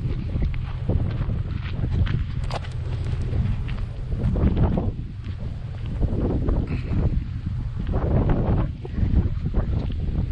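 Strong wind blowing over an open lake, loud buffeting gusts battering the microphone in uneven surges throughout.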